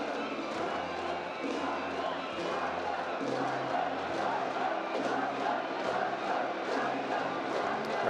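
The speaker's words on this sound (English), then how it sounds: "Crowd sensing victory." A stadium crowd at an international baseball game between Australia and Chinese Taipei roars continuously, a dense, sustained wash of cheering and shouting with rhythmic surges, heard from a distance throughout.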